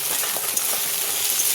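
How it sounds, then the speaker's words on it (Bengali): Sliced potatoes and lightly fried onions sizzle together in a pan for a bitter gourd and poppy seed dish, a steady, close hiss lasting a second and a half without talk. "এই আলুর সাথে পেঁয়াজ ভাজা হয়ে যাবে।"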